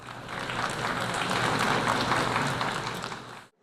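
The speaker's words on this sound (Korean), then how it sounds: "재차 박수 소리가 울려 퍼졌습니다." Applause from the audience at the UN General Assembly hall during a presidential speech swells into a dense, steady clatter of many hands for about three seconds, then cuts off abruptly into silence.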